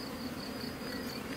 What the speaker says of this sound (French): Il y a des jeunes abeilles, ça se voit.